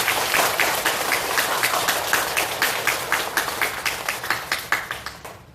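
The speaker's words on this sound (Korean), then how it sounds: "박수 한번 쳐주시죠." An audience at an all-night Lotus Sutra chanting prayer service at a Buddhist temple in Namwon bursts into dense, steady applause, which thins toward the end into scattered individual claps.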